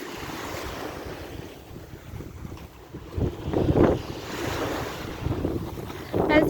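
Gusty wind at the water's edge of a beach, roaring steadily with louder buffets against the microphone and a low wash of surf beneath, no voices.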